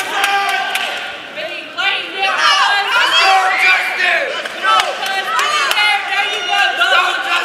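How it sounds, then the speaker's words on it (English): A crowd at a grappling fight cheers and shouts loudly and continuously, with excited voices and whoops rising and falling throughout, and a commentator talking over the noise. "this crowd is going bananas."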